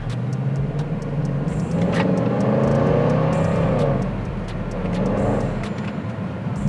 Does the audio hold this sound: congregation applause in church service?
no